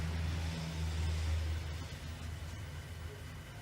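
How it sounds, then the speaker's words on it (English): Passing cars rumble low and steady, a mid-range engine hum fairly close at first and easing off slightly toward the end, with a broad noisy wash over it and no voices. "I'm hearing both cars in the video"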